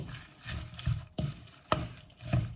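Sliced mushrooms tossed in a bowl with red chili, sliced lemongrass and shallot for a Thai mushroom salad, making close, wet, rhythmic stirring and slapping sounds in repeated strokes with no talking.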